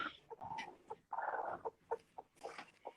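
A broody backyard hen sitting on eggs clucks and grumbles in a close, irregular series of low, throaty sounds, with some quieter background noise.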